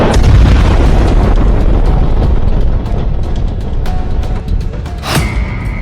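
Israeli air force bombardment of targets in southern Lebanon, heard as a loud, sustained roar of blasts and rumbling explosions with sharp cracks and pops, dense and continuous throughout.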